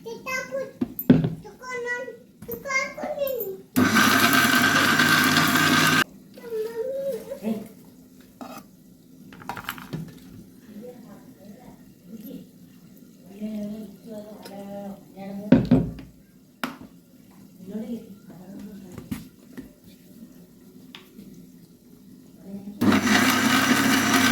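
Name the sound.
mixer grinder grinding roasted coconut, onion and spices with water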